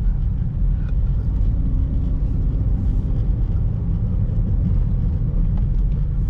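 A 2014 Perodua Myvi 1.5 SE automatic runs at idle nearby, giving a steady low rumble with some wind buffeting on the microphone and no speech.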